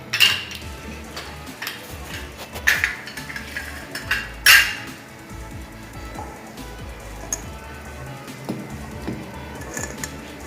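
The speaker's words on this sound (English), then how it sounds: "Now after cooking our soup for 3 minutes, I am going to add Manchurian balls to it." Metal pots and utensils clink and clatter as Manchurian balls are added to soup simmering in a pot, with a few sharp knocks early on and quieter stirring sounds after.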